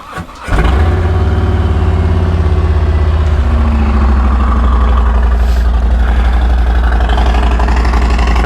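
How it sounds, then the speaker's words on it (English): A bagger motorcycle with a stage 1 D&D Bobcat cam and upgraded air filter cold starts after sitting a couple of days, cranking briefly then catching into a loud, steady, loping idle that runs on without a break. "this is a straight up cold start on the bike"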